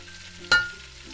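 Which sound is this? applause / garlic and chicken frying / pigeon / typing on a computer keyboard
garlic and chicken frying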